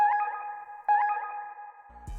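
An accent sample from an FL Studio accent pack plays twice as a bright, echoing synth tone with a ringing repeat, then a low thump enters at the end, with no voices.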